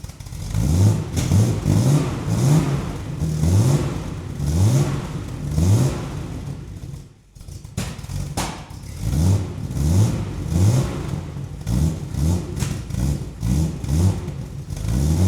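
A cheap supercar on its stock exhaust revs again and again in a steady rhythm, each rise in engine pitch falling back, the tone thin and whiny, with a short gap midway.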